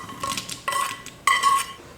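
A utensil scrapes and clinks against a plate as boondi is mixed with fried cashews and ghee, three short ringing strokes, close and fairly quiet.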